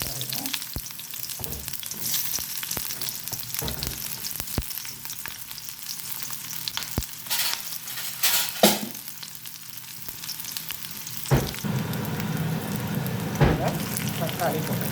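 Onions sizzle steadily in hot oil with cinnamon and cardamom in a small pan for butter chicken, a continuous crackling fry with occasional louder stirring clatters throughout.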